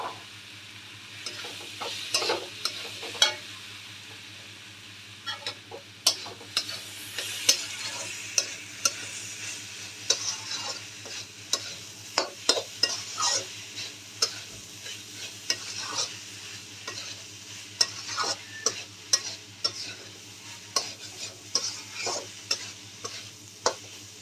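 A spatula stirs tawa pulao rice mixed with fried soybeans in a hot pan. It makes quick, uneven scraping strokes close by over a constant soft sizzle, with no voices.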